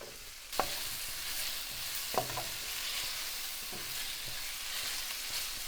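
Onion, fennel and hot pepper flakes sizzle gently in a frying pan, with a utensil scraping and knocking against the pan a few times as everything is stirred.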